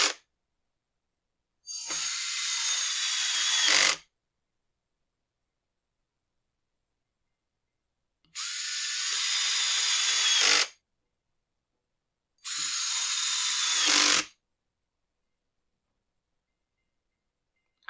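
Impact driver driving screws into the starter housing of a Husqvarna 125B leaf blower, three separate bursts of a couple of seconds each with a rapid hammering buzz, close and loud, separated by silence.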